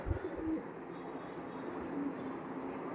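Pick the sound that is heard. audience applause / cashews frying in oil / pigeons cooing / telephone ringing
pigeons cooing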